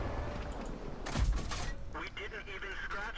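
Tank gunfire in World of Tanks hits the player's Pz B2 with a heavy impact and rattling bursts amid a constant engine rumble, while someone talks over it.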